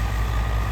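A tractor engine idles with a steady low rumble and a continuous mechanical drone, close and unbroken throughout.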